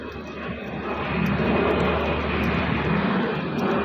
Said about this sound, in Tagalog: aeroplano andun sa taas oh